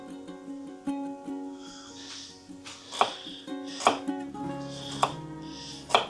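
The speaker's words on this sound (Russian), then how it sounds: "Сейчас мы немножко нарезкой займемся" Knife chopping carrots on a cutting board, a handful of sharp irregular thuds over a steady background hum, close and moderately loud.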